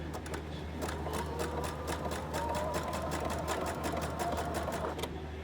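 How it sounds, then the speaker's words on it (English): A sewing machine stitches fabric for a small case, running steadily at close range with a fast rhythmic needle chatter and motor hum, unbroken for several seconds with no talk. "If you want to do a straight stitch, you can do a straight stitch instead."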